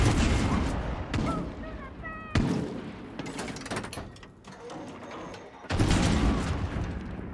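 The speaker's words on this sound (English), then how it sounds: "I love this cannon." A cannon fires in the Far Cry 6 video game, several heavy booming blasts, loud and close, each trailing into a rumbling decay, with scattered gunfire and clatter between them.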